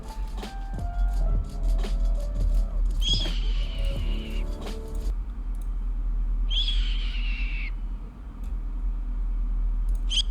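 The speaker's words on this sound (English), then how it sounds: "this is how they say that the eagle sounds" Two piercing, high screeching bird cries ring out against a loud, low hum and clattering background, the calls spaced a few seconds apart.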